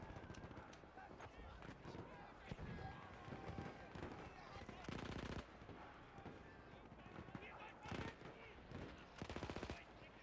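Guns fire in the World War I shooter Battlefield 1. Rapid automatic bursts crackle through continuous battlefield noise, with several louder sustained volleys standing out and a voice talking over the action.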